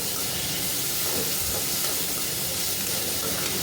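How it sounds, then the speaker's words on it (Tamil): Food sizzles steadily in a hot pan as onions are sautéed with rock salt for a home-style chicken gravy, a continuous close hiss and crackle with no talking. "நல்லா வதங்கட்டும்"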